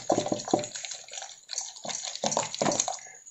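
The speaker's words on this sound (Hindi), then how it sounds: "उसके बाद इसमें हम पानी डाल देंगे।" Water poured into churned cream while butter is made at home, a steady splashing, trickling pour close by with irregular gurgling bursts, no voices.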